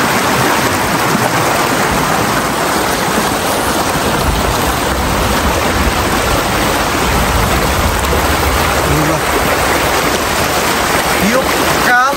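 Black, muddy floodwater rushing down from upstream at a labour park during heavy flooding, a dense, steady roar of water filling the whole stretch without pause.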